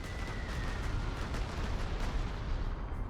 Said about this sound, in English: Some bombing.